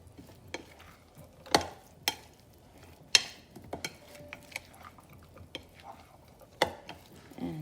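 Okra being tossed by hand with coconut oil and pickle spices, giving irregular close clicks and wet stirring knocks spaced over several seconds in a quiet room.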